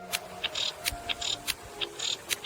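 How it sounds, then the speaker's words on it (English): Short buzzy clicks and chirps of a female cicada call repeat in a steady rhythm, with crisp snaps alternating with brief higher buzzes, fairly close and clear. "to sound like a female cicada, which sounds like this."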